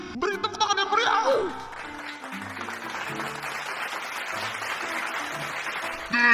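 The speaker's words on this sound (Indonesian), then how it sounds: "Beri tepuk tangan yang meriah." Crowd at a neighbourhood Independence Day celebration claps for the local neighbourhood head, sustained mid-level applause following a short stretch of speech, with some laughter and music tones mixed underneath.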